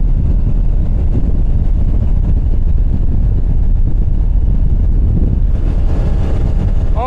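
A 2013 Bayliner 195 boat with a Mercruiser 4.3 engine roars steadily at full throttle, close and loud, with heavy wind buffeting and water rush throughout.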